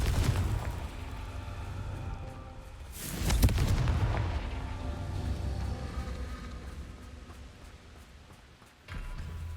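Confringo explosive spell blast in the video game Hogwarts Legacy, a deep booming burst that swells and rumbles for a couple of seconds over a continuous low game ambience.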